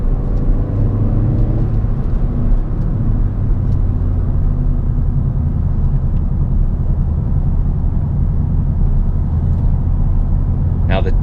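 A 2019 Hyundai Veloster Turbo drives a curvy road in normal automatic mode, its loud steady cabin rumble of engine and road noise droning throughout.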